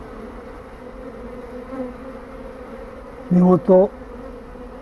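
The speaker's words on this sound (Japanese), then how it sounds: "一度箱より飛び出したニホンミツバチがまた箱の中へ戻っていくところです。" Japanese honeybees buzz steadily around a wooden hive box as the swarm returns inside, a continuous low drone with two brief louder bursts near the end as a bee passes close; a short spoken word is heard.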